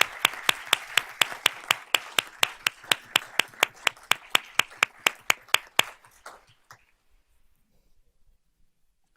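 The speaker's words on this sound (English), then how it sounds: "So let's give these ladies a round of applause." Applause at a school board of trustees honors meeting, a regular run of sharp, evenly spaced claps like a single pair of hands, close and crisp, stopping abruptly around six seconds and leaving near silence.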